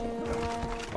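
A horse in the video game Rustler neighs over the thud of galloping hooves, loud and close in a single brief burst.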